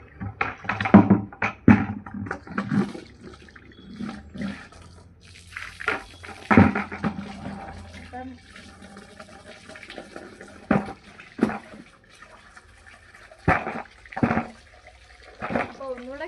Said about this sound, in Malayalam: ഈ വെള്ളം കളയാം.